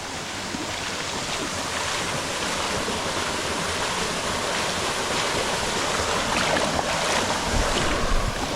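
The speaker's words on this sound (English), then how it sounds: "And this is the beautiful Zorro waterfall." A jungle waterfall in northern Trinidad pours with a steady, broadband rushing roar of falling water that stays close and loud and unbroken throughout, with no voices.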